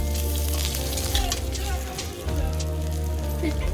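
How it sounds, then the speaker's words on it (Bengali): Steady, dense sizzle of onions frying in hot oil until reddish-brown, close and continuous, with a faint low hum underneath and no talking. "লাল লাল করে ভেজে নিলাম"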